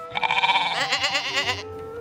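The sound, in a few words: goats bleating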